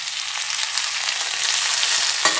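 Sautéed onions with tomatoes sizzling in a pan, a loud, close, even frying hiss that swells slightly toward the end, closing with a short clatter and no talking.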